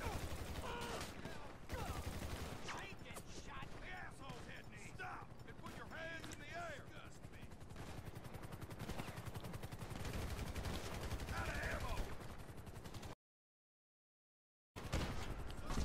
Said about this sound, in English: Oh god, they're shooting at me.